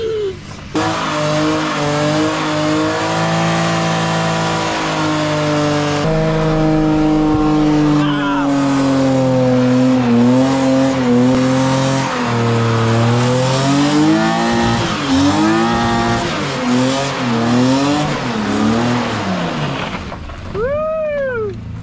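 A Mazda Miata doing a burnout, its engine held at high revs with a steady droning roar and sliding, warbling pitch as the tires squeal, loud and close for about twenty seconds before cutting off abruptly.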